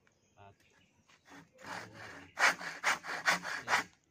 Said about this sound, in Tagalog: Ganyan lang paglagari niya ng pagganit.